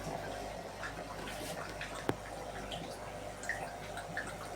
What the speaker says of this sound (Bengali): তো কিছুটা এরকম জল পড়বে।